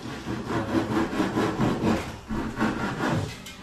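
A hand saw rasps back and forth through wood in steady, rhythmic strokes, close and fairly loud, with no talking.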